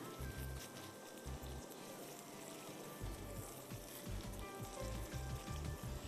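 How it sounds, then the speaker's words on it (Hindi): Oatmeal roasting in ghee for ginger halwa gives a soft, continuous sizzle, with low rhythmic scraping and stirring thumps underneath and faint background noise. "घी में अच्छी तरह इसको भूनिएगा"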